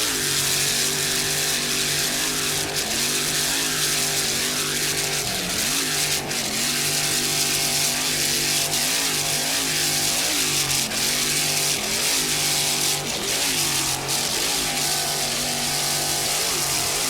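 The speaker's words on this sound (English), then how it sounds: "Just listen to that Frank's Marine inboard," A Frank's Marine 700-horsepower inboard engine drives an offshore racing powerboat at a Miami grand prix, giving a loud, sustained, throaty roar with rhythmic pitch swells as the throttle rises and falls, unbroken throughout.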